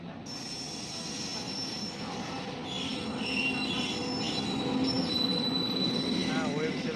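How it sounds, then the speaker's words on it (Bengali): Nabadwip Dham Express pulling into Malda station at night, running hours late, its wheels squealing steadily against the rails as the cars roll past close by, the grinding growing louder toward the end. "কিন্তু চলে আসছে আমাদের ট্রেন।"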